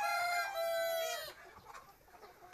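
A rooster in a chicken flock on a Vietnamese family farm gives a loud, drawn-out crow, followed by quieter clucking and scuffling nearby.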